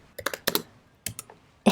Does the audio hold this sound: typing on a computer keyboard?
yes